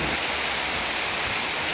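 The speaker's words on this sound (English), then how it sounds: "We desperately, and I mean desperately, need this rain." Steady rain falls outdoors after a long dry summer, a dense, even hiss that continues without a break for the whole stretch and carries no voices.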